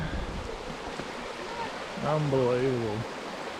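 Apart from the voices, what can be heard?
creek water flowing after overnight rain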